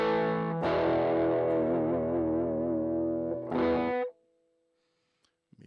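Electric guitar played through an M-Vave Blackbox using the Jazz Chorus JC12 cabinet, a sustained chord with wavering chorus shimmer, then a second struck chord that cuts off abruptly into near silence.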